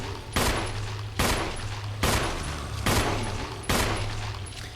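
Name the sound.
gunfire from firing weapons in Resident Evil Remake video game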